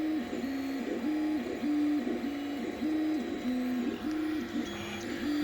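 An Anycubic 3D printer spiral-printing a large vase, nozzle at 200 degrees and bed at 60, its stepper motors singing a steady repeating tone that rises and falls in short, even pulses, close and alone.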